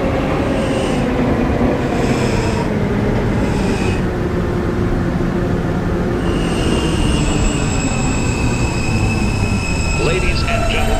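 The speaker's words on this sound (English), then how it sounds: "This is a West Patap bound R train via the N line" A New York subway R train running at night, wheels rumbling and squealing loudly on the rails in a steady, close roar inside the car, with a voice speaking over it.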